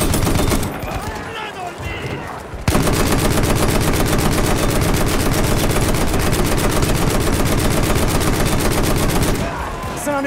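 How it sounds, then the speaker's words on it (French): Enemy machine gun fire in Battlefield 1, a loud, sustained rapid-fire burst that runs unbroken for several seconds after a short lead-in of battlefield noise. "C'est une mitrailleuse ennemie."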